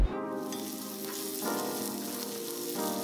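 Corned beef, onion, chili seasoning and corn being stirred in a hot pan, a continuous close sizzle with steady crackling frying and occasional scraping stir sounds, no voices.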